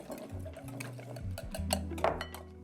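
A whisk beats an egg mixture with vanilla extract and sour cream in a bowl, a quiet, fast, regular ticking of wire against the bowl that continues throughout at close range, with no voices.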